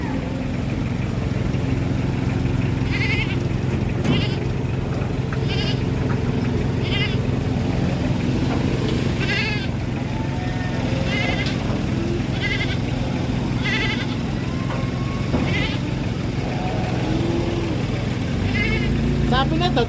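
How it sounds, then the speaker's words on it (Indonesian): A truckload of sacrificial goats bleats repeatedly in short wavering calls over a constant engine rumble, with people talking nearby. "Ini rombongan kambing kurban."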